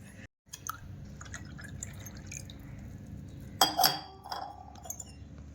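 Water is poured briefly into a vessel with a splashy gush and a few faint clinks and drips around it, quiet and close.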